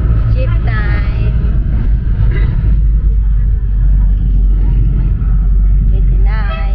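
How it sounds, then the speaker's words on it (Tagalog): A jeepney engine rumbles steadily and loudly throughout the ride, a constant low drone with nearby voices talking over it. "Jeep time."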